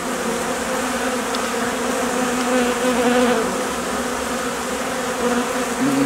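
Honeybees swarm around their hive in February while taking pollen substitute, producing a dense, loud, unbroken buzz close by with no voices.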